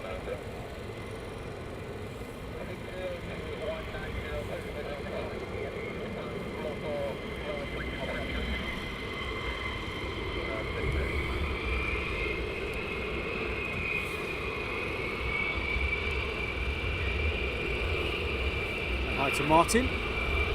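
F-15 jets of the 494th squadron taxiing at RAF Lakenheath at night, a steady engine rumble and whine that swells slightly toward the end while someone talks over it.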